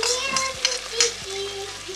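Onions fry in a pan with a steady close hiss and a couple of soft stirring scrapes, while a faint tonal hum runs underneath.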